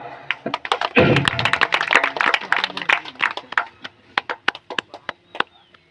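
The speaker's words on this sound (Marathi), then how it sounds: "कृपया सर्वांनी जरा टाळ्या वाजवा" Audience applause at an underarm cricket tournament's lamp-lighting ceremony, a burst of clapping that swells quickly, then thins into scattered individual claps before fading out.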